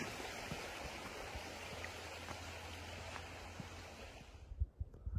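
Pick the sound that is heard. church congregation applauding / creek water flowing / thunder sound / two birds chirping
creek water flowing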